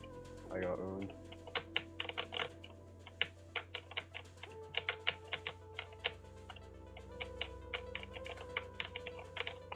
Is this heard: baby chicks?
no